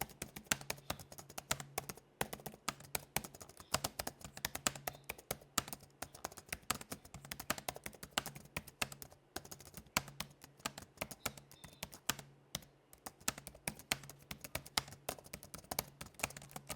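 Rapid, steady typing on the tactile keys of a 2023 Lenovo Legion Pro 5i laptop keyboard produces a continuous patter of soft, close clicks with a faint hum underneath.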